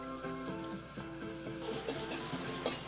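Beef and minced garlic stir-frying in oil in a wok, a close, continuous sizzle with light stirring scrapes and no speech.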